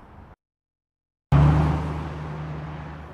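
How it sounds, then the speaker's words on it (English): Steady road traffic on busy Chesterfield Road (Route 10), near a construction zone: a brief quiet gap, then a loud broadband roar of passing vehicles that slowly eases into a constant close rumble. "The constant buzz of traffic zipping along this busy Chesterfield Road just got a little louder in the past few months."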